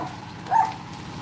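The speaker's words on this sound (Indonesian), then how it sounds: "Wah, ada anjing guguk." A dog gives a single short bark, moderately close, rising briefly above the steady outdoor background noise.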